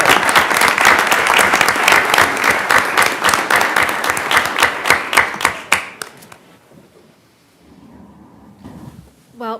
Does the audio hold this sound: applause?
yes